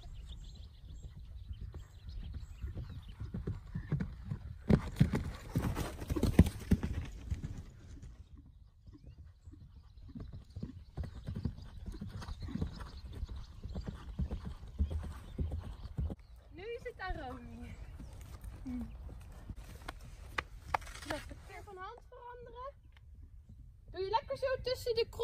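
Horse hooves clip-clop steadily during cross-country eventing training, with occasional neighs and whinnies mixed in and people talking over the riding throughout.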